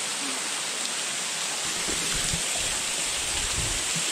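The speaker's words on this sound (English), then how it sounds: "Waterfall." Steady broadband rush of a waterfall beside a cave at Buffalo River National Park, Arkansas, loud and continuous for the whole span with no talking.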